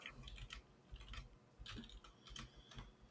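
Typing on a computer keyboard at a trading desk, with quick, close, irregular key clicks in short bursts and no talk.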